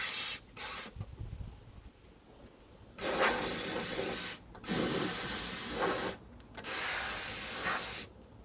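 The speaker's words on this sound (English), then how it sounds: "I sprayed it all with the back panel off, sprayed it good" A spray can of undercoat hisses in several bursts on a Jeep tailgate after rust repair, a couple of short puffs, then three long sprays separated by brief pauses.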